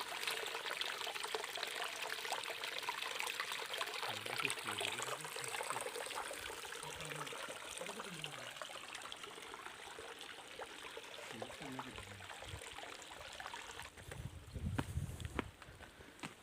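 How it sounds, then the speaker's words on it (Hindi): Flowing water from a waterfall in the hills murmurs steadily in a soft, continuous rush, heard from a little distance, with a brief louder splash near the end. "आपको यहाँ झरने की कल कल करती आवाज़ सुनाई दे रही होगी।"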